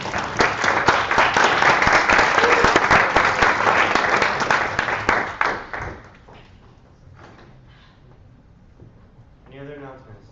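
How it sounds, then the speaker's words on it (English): Loud applause fills a senate chamber for about six seconds, dense and steady before fading abruptly, followed by quiet room noise and brief voices near the end. "So, give a big round of applause."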